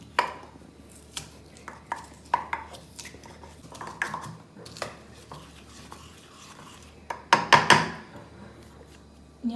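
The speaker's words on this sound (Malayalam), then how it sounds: "ഞാൻ ഇഞ്ചി ചതയ്ക്കുന്നതിനേക്കാളും എന്ത് ക്രിയേറ്റീവായിട്ടാണ് ഏട്ടൻ ഇഞ്ചി ചതയ്ക്കുന്നത്" Ginger and garlic are crushed for cooking with a series of irregular sharp knocks and thumps, close and fairly loud, bunching into a quick burst of hard strikes near the end over a quiet kitchen background.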